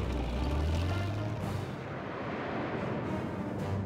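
Battlefield in World War Armies, a real-time strategy game pitting Germany against the USSR: a steady wall of artillery and gunfire rumbles continuously, dense and mid-distance, with low booms under a hissing wash.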